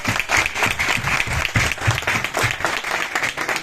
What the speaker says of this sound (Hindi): एक बार नए लोगों के लिए जोरदार तालियां